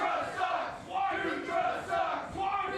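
A wrestling crowd in a gym jeers and shouts, a sustained chorus of voices swelling and dipping in waves throughout.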